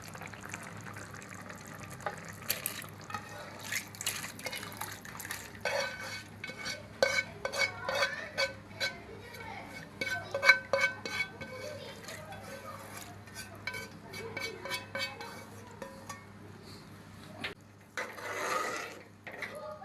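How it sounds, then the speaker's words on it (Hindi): A spoon scrapes and clinks against a pan as boiled mash dal is stirred and roasted with spices, dhaba style, giving irregular close scraping strokes and faint sizzling with talk at times in the background. "अब दाल को 4 से 5 मिनट तक अच्छी तरह से भून लेंगे।"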